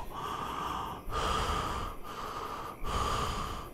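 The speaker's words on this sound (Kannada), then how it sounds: "ಅಂತಹ ಕತ್ತಲ ಒಡಲಲ್ಲಿ ಒಂದು ಜೋರಾದ ಏದುಸಿರು." Loud, ragged panting breaths in darkness serve as a horror sound effect: a few long, heavy gasps, each cut by a short pause, close and alone with no talk.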